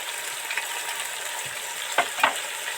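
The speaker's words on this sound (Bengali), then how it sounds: "মশলা তো ভাজা ভাজা হয়ে গেছে, এবার এর সাথে একটু জিরে ধনে মরিচ গুঁড়ো অ্যাড করছি" Spices sizzle steadily in hot oil in a pan for shukto as cumin, coriander and chili powder go in, with a couple of sharp stirring clicks and scrapes near the end.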